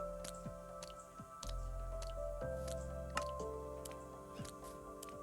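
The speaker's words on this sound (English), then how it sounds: "I love how the cod's just flipping around." A cod flopping around out of water in Minecraft, repeated soft wet slaps and squishy flips at an uneven rhythm, quiet and close over a faint background hum.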